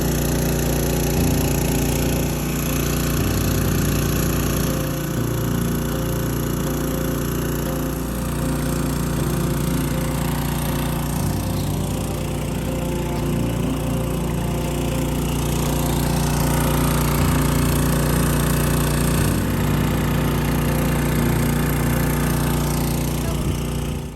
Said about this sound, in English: I'm gonna see how long it exactly takes with the pump that does 158 gallons a minute.